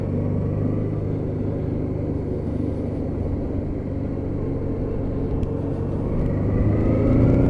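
A Honda Deauville motorcycle engine is heard while being fed through a roundabout, a steady close rumble from the engine and road that swells slightly toward the end as throttle is added, with no talk.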